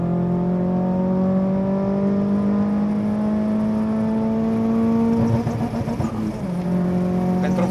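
A Nissan Silvia S14a accelerates hard down a track straight toward top speed, its engine note climbing steadily for several seconds, heard up close from inside the car. A brief rough patch near the end is followed by a lower, steadier drone.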